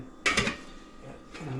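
A lid set back onto a cooking pan of butter shrimp: two quick metallic clanks close by, then a softer rattle of metal a moment later.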